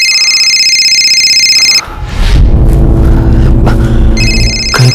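A telephone in a crime drama rings with a loud, steady electronic tone, breaks off under a swell of deep rumbling music, then starts ringing again near the end.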